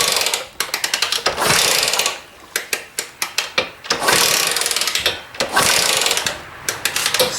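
A rusty junkyard Honda XR80 engine is cranked over by hand in several rapid ratcheting bursts, loud and close, separated by brief pauses, with no talk.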